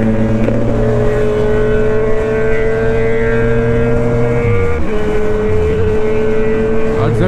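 A Kawasaki Z1000 superbike fitted with an Austin Racing exhaust roars past, a loud steady engine drone that shifts pitch downward midway as it passes and recedes.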